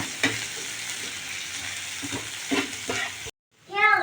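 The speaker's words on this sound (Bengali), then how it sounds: "পেঁয়াজটা আমার ভাজা হয়ে গেছে" Chopped onions, two large ones, frying in oil in a pan, a steady low sizzle with a few soft stirring scrapes, then a brief cut to quiet and a fresh sound at the end.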